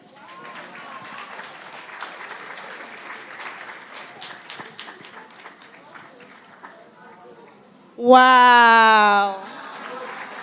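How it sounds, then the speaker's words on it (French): Storyteller's audience at an African folktale festival breaks into applause, a steady crowd clatter running under an exclamation before a loud sung or shouted tone rises over it near the end. "On l'applaudit"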